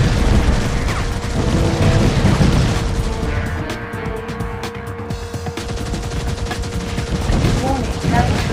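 Forward weapons firing from a spy car in SpyHunter 2 on PS2, a dense, continuous rattle of gunfire layered over engine and game effects, loud and steady throughout with a brief dip midway.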